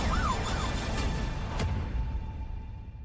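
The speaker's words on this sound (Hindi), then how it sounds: "ये पुलिस की सायरन की आवाज है।" A police siren wails, its rising and falling tone fading into the distance as it passes, with a brief whoosh in the middle and no speech.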